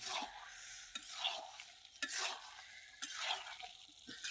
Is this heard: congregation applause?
no